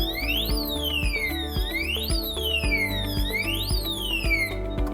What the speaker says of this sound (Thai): รหัสที่ถูกต้องสามารถปิดเสียงเตือนได้นะครับ